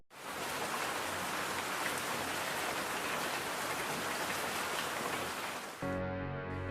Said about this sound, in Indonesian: efek suara hujan dalam film ternyata direkam dari suara daging yang lagi